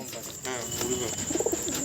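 A green racing pigeon gives a short soft coo close by, a brief low burbling call over a faint hiss of background noise.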